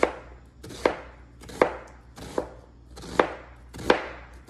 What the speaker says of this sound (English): Gonna slice up half an onion.